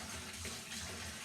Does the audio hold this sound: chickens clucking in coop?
no